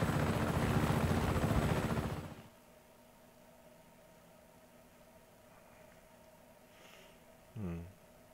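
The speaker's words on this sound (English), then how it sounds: "No, I don't want to take the chopper." In the video game Just Cause 3, a helicopter thrums loud and close for about two seconds, then cuts off abruptly, leaving a faint hum with a brief burst near the end.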